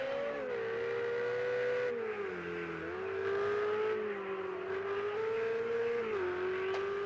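A high-revving Ferrari 488 Challenge race car engine roars steadily, pitch rising and dipping through gear changes as it drives around Willow Springs International Raceway, close and loud.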